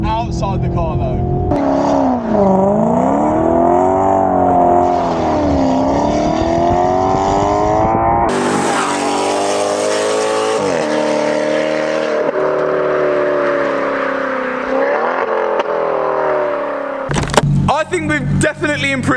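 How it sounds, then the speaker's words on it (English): A straight-piped Maserati GranTurismo revs hard beneath a bridge, its loud engine note rising and falling through repeated throttle blips with echoing rasp, ending in a sharp crackle, and voices are heard at points. "under this nice little bridge, I think we could get a few revs"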